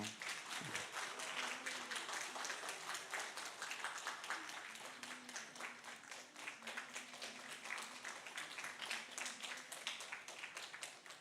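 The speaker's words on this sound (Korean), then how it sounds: "우레와 같은 박수로." A church congregation applauds steadily and continuously, with dense rapid clapping filling the space, fairly distant and faint, while a low voice murmurs briefly underneath.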